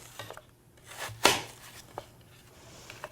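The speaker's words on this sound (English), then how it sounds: "And I just chop them up" A single firm knife chop through apple onto a cutting board lands as a sharp, close thunk, with softer small taps and handling noise around it.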